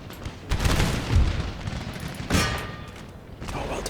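Musket volleys and booming artillery from an Empire: Total War battle with American forces, loud overlapping bursts of gunfire and heavy thuds in irregular waves, with distant crackling between them.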